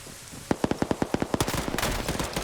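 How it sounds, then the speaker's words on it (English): A burst of gunfire in a competitive shooter video game: about a dozen sharp, evenly spaced shots ring out close and loud, then dissolve into a denser, overlapping rattle. "single headshot by Banks"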